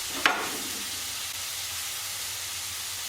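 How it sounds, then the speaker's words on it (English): Smashed garlic cloves sizzle in a hot pan with a steady, close frying hiss that follows a brief clatter at the start. "Ooh, you can hear that sizzle."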